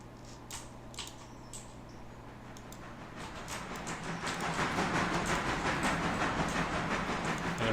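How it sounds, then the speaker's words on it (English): Train rolling on rails in the game Railroader, a steady low rumble with rhythmic clicking and metallic clatter that grows louder toward the end as the cars near. "this train is going to keep coming, make the left up into Bryson into the yard area"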